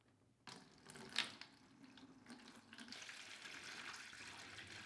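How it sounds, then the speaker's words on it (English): Water runs steadily into a bucket beside a mouse trap in a barn, a continuous splashing fill that starts abruptly and grows slightly louder and fuller, close by with no talking. "Then we're going to add water in the bucket,"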